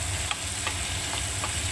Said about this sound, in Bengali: মাছের ঝাল দেওয়ার জন্য আমি পেঁয়াজটা ভাজছি দেখুন